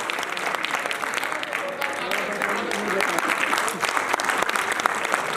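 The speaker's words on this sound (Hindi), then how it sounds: "जोरदार ताली से सब खड़े हो जाएंगे" A large audience at a mega meet claps loudly and continuously, a thick wash of applause with a faint voice briefly heard within it.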